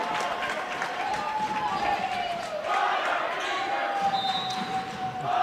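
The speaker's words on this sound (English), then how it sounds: "the crowd here letting them hear it for losing the ball there on that last possession" Home crowd at a boys high school basketball game between Syracuse and Copper Hills groans and jeers over a lost possession, a steady loud murmur in a gym with squeaking sneakers and a dribbling ball, under a commentator's talk.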